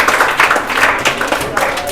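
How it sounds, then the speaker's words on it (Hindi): A class of students clapping hands together: a short burst of dense, continuous applause, close and loud, with a voice faintly mixed in. "हाँ ढंग से ताली बजनी चाहिए"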